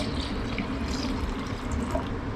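Water steadily poured into a one-litre tin of house paint to thin it for rolling, a continuous close liquid rush with no talk.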